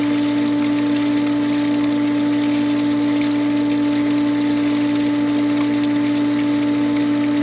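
A pool filter pump set to rinse runs with water flowing through it, giving a loud, steady motor drone with a strong constant hum and unbroken rushing noise from start to finish.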